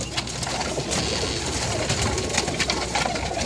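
Pet white pigeons coo steadily in a loft, soft throaty calls overlapping in a continuous murmur close by, with faint rustling and no talking.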